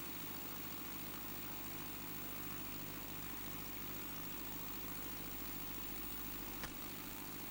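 Engine of an Aerosport Scamp light aircraft, registration G-BKPB, throttled back on base leg before the final turn, a steady propeller drone heard from inside the airframe, constant and moderately loud throughout with no talk.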